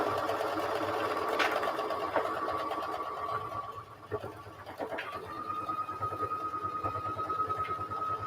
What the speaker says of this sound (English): I am stitching through, this is still 4 layers of fabric